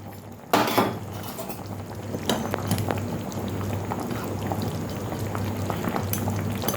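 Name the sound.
chicken stew cooking in a covered pot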